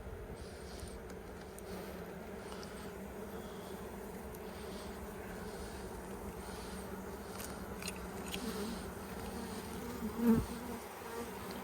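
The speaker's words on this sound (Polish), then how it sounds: "Wiszą pszczoły pod ramkami." Honeybees buzz on hive frames during a spring colony inspection, a faint, steady drone that continues throughout with a brief knock near the end and no speech.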